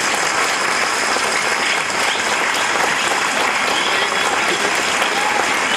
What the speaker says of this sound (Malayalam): കയ്യടിയോടെ നിങ്ങളുടെ പ്രതികരണം ഒന്ന് കൊടുക്കാൻ പറ്റുമോ?